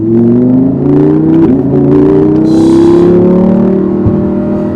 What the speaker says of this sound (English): you do hear a little bit of that air intake on the shift